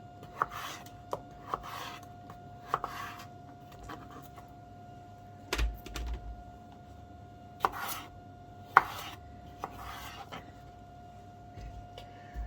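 A knife slices potatoes into chunky wedges on a board, giving sharp, separate chops at an irregular pace with quiet pauses between them, close by with no talk.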